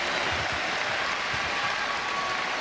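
Arena crowd at a 1998 Chicago basketball game applauding Michael Jordan, a steady wash of clapping and crowd roar that holds at an even, loud level throughout.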